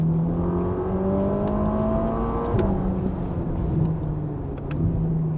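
A Ferrari Roma engine revs and accelerates steadily in third gear with rising pitch, a close, continuous whining roar with no speech.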